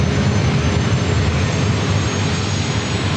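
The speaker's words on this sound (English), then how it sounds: "It's Southwest Airlines Flight 2909 heading to El Paso," A Southwest Airlines Boeing 737-700 jet at San Diego airport gives off a loud, steady, broadband engine roar that holds evenly throughout, with no voices.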